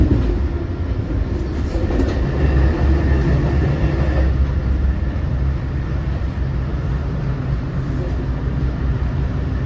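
An eastbound Long Island Rail Road train rumbles past nearby in a steady, loud roll with faint rail clatter, heard from aboard another train.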